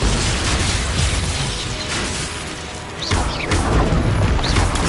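Expulso explosion spell blasting in the video game Hogwarts Legacy: a loud, continuous roar of booms and crashing debris that eases briefly, then a fresh burst erupts and carries on at full strength.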